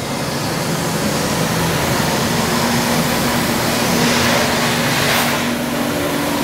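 Vacuum cleaner sucking up loose crayon bits from greasy restaurant carpet, a steady loud broadband whoosh with a constant hum running unbroken throughout, close up, no talking.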